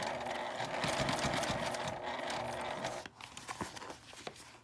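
A sewing machine stitches fabric for a zippered toilet paper case in a steady close whirr for about three seconds, then slows into a few short, uneven bursts.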